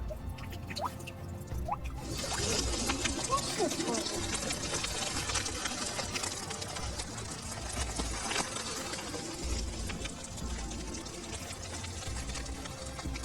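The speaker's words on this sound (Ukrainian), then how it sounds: "Це шум дощу." Steady rain patters and drips close by, a dense crackling hiss that begins abruptly and continues throughout.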